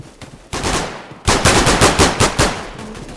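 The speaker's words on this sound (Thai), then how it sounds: "เสียงปืนนี่ล่าเสียงดังมาก" Rapid automatic gunfire in a video game, loud and close, with a short burst followed by a longer sustained stream of shots after a brief pause.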